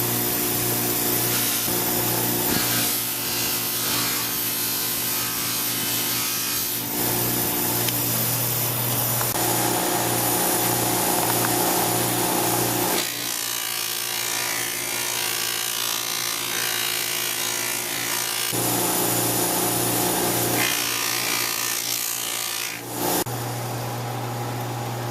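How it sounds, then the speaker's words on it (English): A slingshot being polished on a Tripoli buffing wheel, with a continuous motor whine that shifts in pitch and texture as the piece is pressed on and lifted off the wheel several times. "that's after being polished up on the Tripoli wheel and then just being hit lightly with a clean cotton buff"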